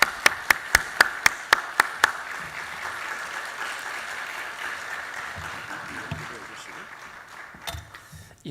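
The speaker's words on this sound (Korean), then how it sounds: "우리 뜨겁게 박수로 모시겠습니다." A church congregation at a Friday prayer meeting claps in a brisk, even rhythm of about a dozen beats, then breaks into a sustained wash of warm applause, with a voice speaking over it.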